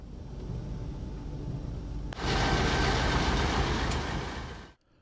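The Indian Pacific train rumbles past a standard-gauge locomotive depot in Australia at close range, a steady roar of wheels and engine that swells louder halfway through, then cuts off abruptly.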